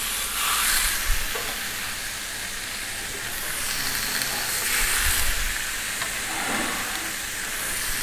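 A donut sandwich sizzling on a grill, a steady hiss with soft crackle and a few brief bumps, continuous and close.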